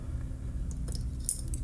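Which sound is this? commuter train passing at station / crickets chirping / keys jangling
keys jangling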